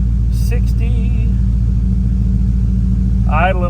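A 1998 Chevrolet K2500 pickup truck engine idles right up close with an even, throbbing low rumble, while someone talks briefly over it at the start and again at the end.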